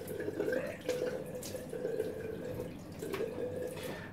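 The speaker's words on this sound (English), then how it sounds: "Now, rinse the face." Water splashing and dripping as a face is rinsed during a shave at a sink, a steady wet patter with a few louder splashes, close and continuous.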